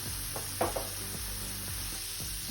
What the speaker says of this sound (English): Okay, so let's fry this.